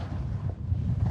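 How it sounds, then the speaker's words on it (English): Wind buffeting a helmet-mounted GoPro while skiing at speed, a steady, loud low rumble filling the whole brief moment with no other sounds. "This is a little audio test at speed with some wind"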